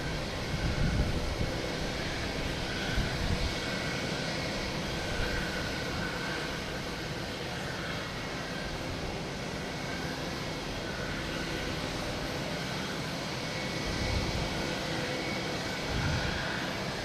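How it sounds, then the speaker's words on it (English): A Delta Airbus A321neo arriving from San Juan lands at Boston Logan, its engines a steady, broad roar that holds for the full stretch, swelling slightly near the start and again toward the end, with no voices. "Delta coming in, A321neo from San Juan."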